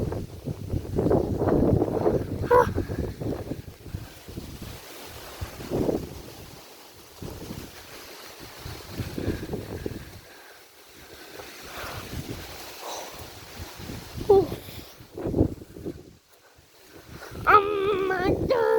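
Strong hurricane wind roars and buffets the microphone outdoors in loud, surging gusts that rise and fall throughout, with brief faint voices under the noise.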